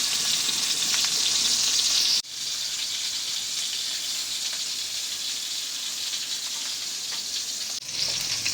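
Fish for a Kerala-style pepper fry sizzling in oil in a pan over a low flame, a steady, dense, loud crackle that runs throughout with two brief cuts.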